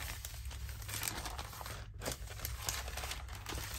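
Old pattern paper, one sheet dating from 1914, handled and crinkled in a crafting session, giving a continuous dry rustle and crackle up close with no talking.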